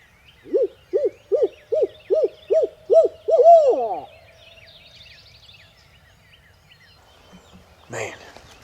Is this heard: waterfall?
no